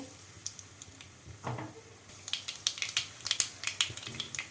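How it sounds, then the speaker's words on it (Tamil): Mustard seeds and two dried red chillies crackling in hot oil for a tempering, with soft frying hiss that builds into rapid sharp pops and spits toward the end. "காஞ்ச மிளகா ரெண்டு போட்டுக்கலாம் கடுகு பொரிஞ்ச உடனே"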